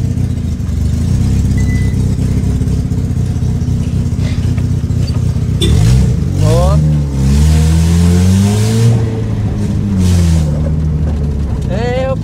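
A Chevrolet Celta with a straight-pipe exhaust revs loudly at close range, its engine note rising and falling in several rapid sweeps over a steady idle rumble, with voices nearby.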